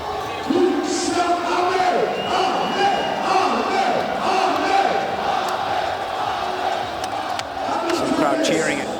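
A boxing crowd at an Amir Khan versus Bill Dib fight roars and cheers steadily for the whole stretch, loud and dense, with yells and whoops rising out of the continuous arena noise.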